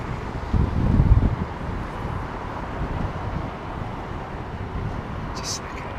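Wind buffeting a microphone at a high vantage point near Heathrow Airport, a rumbling gust building strongly around the first second, then easing into a steady low roar, with someone talking over it.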